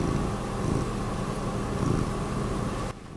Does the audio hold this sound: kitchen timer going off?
no